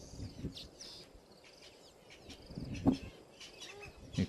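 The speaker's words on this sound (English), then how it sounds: "You can hear the blacksmith lapwings." Blacksmith lapwings call around an African waterhole in hot, still afternoon conditions: scattered sharp, metallic chirps, fairly faint and distant, over a soft outdoor background with other small birds.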